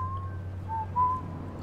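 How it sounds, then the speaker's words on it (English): A guard whistles somewhere in the stealth game Dishonored, a few thin, wavering tones drifting over a low ambient hum, fairly quiet and distant with no talking. "I hear a guy whistling."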